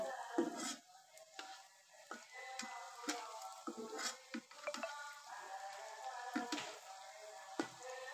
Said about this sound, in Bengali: এগুলো আমি লাল লাল করে ভেজে